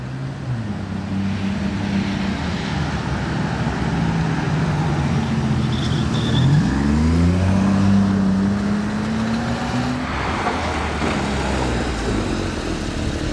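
A red Aston Martin Vanquish with a twelve-cylinder engine idles with a deep, steady rumble, then revs up briefly midway with a rising, blipping note before settling back to a smooth idle.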